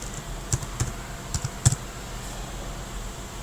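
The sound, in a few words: typing a hashtag on a computer keyboard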